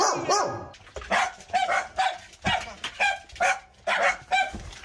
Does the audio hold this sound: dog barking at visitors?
yes